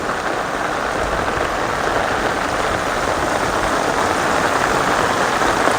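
Heavy monsoon rain pours down on a Gujarat village road where water is running, making a dense, steady roaring hiss that stays loud and unbroken throughout, with no voices.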